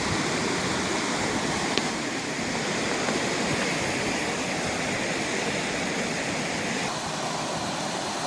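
A river in the Andes near Sucre, Bolivia rushes over rocks, a loud, dense, constant roar of water with no breaks and no voices, close to the bank.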